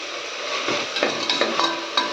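Chopped tomatoes sauté in a pan for beetroot biryani, giving a continuous close hiss with light, irregular stirring taps.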